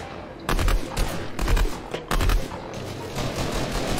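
Bursts of gunfire from a gun in Fortnite, with several rapid volleys starting and stopping over a few seconds, loud and close, followed by a steadier rattle of in-game noise.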